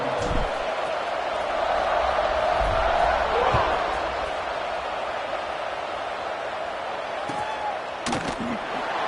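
Large stadium crowd at a college football game, Louisville against Colorado, roaring steadily through a kickoff, a broad sustained cheer with a few louder whoops and a sharp crack near the end, under a play-by-play commentator's voice.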